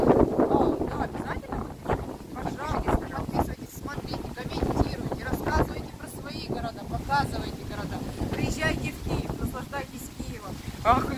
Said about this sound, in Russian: Ах, ветер какой дует.